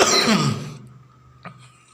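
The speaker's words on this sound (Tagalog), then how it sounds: "Ay, sorry sa ubo guys." A single harsh cough bursts out close by, fading into quiet, with a faint click shortly after.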